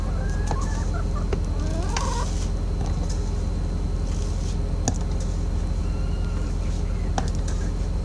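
Backyard chickens of docile breeds clucking softly in a snowy coop area, scattered short calls over a constant low hum, fairly close, with no talking.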